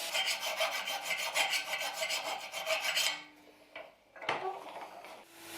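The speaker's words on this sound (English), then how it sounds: "here I am reducing the tang's thickness after I cleaned the transition between the blade and the tang" A file scrapes rapidly over a steel knife tang to thin it, fast close rasping strokes for about three seconds, then stopping, followed by a few light clinks and a short scrape.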